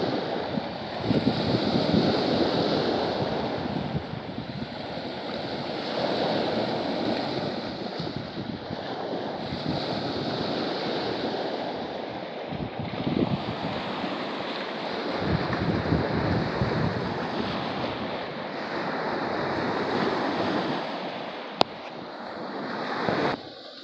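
Continuous rolling wash of Lake Ontario waves breaking and lapping on a beach at 2 a.m. in Pickering, Ontario, with steady wind rushing across the microphone throughout.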